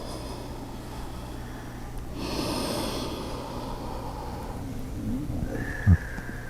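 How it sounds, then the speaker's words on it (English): Ujjayi breathing during a yoga practice: one long, airy, rushing breath rises and fades near the microphone, then a brief soft thump near the end, with no speech. "Ujjayi breath, buoying you up on the inhale and going deeper over the hips on the exhale."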